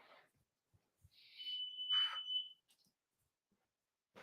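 A smoke detector gives a single short electronic chirp in a quiet indoor room, with faint scattered clicks before and after.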